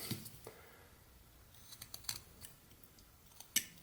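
A carving knife makes a small stop cut into a wooden head at the corner of the mouth, a few faint scrapes and light clicks up close, then a sharper snick near the end in a quiet room.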